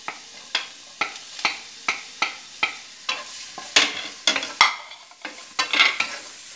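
Chopped onion and capsicum being sautéed in a pan, with a steady run of sharp spatula scrapes and stirring strokes roughly every half second over a soft sizzle, close and clear, no voices.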